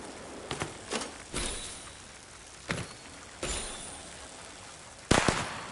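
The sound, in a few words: fireworks exploding in video game Infinity Nikki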